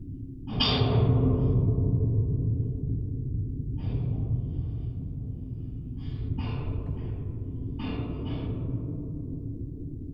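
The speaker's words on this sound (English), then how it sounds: "it's the sound of wind over a metal fence with a contact mic on it" Wind blows across a metal fence and is picked up through a contact mic on it, giving a steady, dense low rumble with occasional brighter scraping swells, and no voices.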